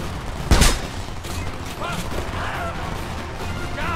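Gunfire in the shooter game Homefront, with one sharp loud report near the start, then scattered softer shots and battle noise continuing under faint voices.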